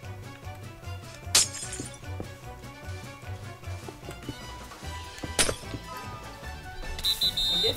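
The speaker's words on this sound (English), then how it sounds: "Break all the glass." Glass blocks shattering in the Minecraft video game, two sharp breaks about four seconds apart over a quiet game background, followed by a brighter clink near the end.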